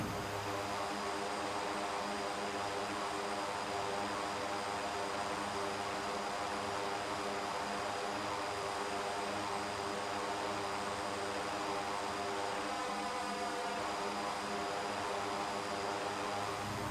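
Airplane engine in the X-Plane 11 flight simulator, a steady, loud, continuous drone and hum that holds unchanged throughout, with no talking.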